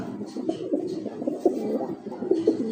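Several pigeons coo softly and repeatedly, their low throaty calls overlapping at close range with no speech.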